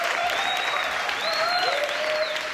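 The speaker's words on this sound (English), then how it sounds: "Give a big round of applause for Dono." Sustained, loud audience applause for a performer at a Palestine solidarity evening of music and talk, dense clapping with rising whoops and cheers layered on top throughout.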